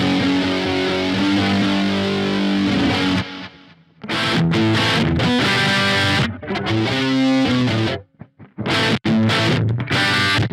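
An electric guitar played through a Yamaha THR amp with a flanger effect rings out in loud, sweeping, distorted chords, broken by a few short silences between phrases.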